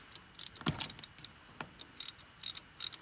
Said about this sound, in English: Thought I'd maybe try a little screwdriver.